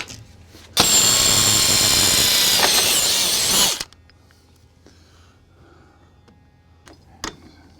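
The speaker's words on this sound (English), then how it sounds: "And start drilling." A loud power drill whirs for about three seconds drilling screw holes for RV steps, then stops, leaving quiet room tone and a few faint clicks and knocks.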